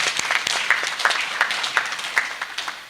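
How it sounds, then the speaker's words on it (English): An audience at a medical class oathing ceremony claps for a council member, a scattered round of handclaps with distinct individual claps standing out, moderately loud and without talk. "Can we give her a special clap?"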